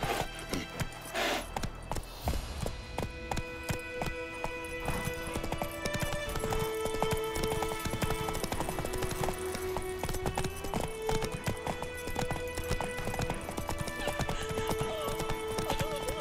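Roach, the horse in The Witcher 3, gallops in a steady rhythmic clip-clop of hooves with a whinny near the start, layered over game music and ambience, continuous and close.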